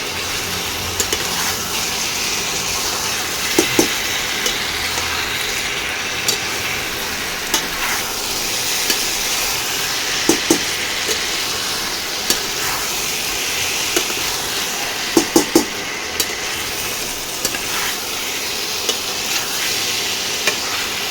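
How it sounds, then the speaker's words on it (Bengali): Fried jackfruit is stir-fried with spice masala in a pan. A steady low sizzle runs throughout, broken by scattered scraping clicks of a spatula against the pan. No one speaks. "দিয়ে মশলার সঙ্গে এঁচোড় দিয়ে এবারে কষাতে হবে।"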